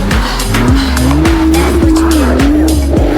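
A Nissan GT-R driven hard, its tires squealing in a long, wavering screech over a loud engine drone, with short repeated bursts as the car slides, close and intense.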